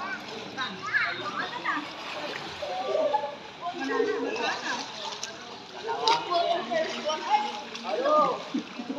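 Child splashing around in a swimming pool at an evening family birthday gathering, irregular splashes and water slaps scattered throughout under frequent nearby voices of children and adults.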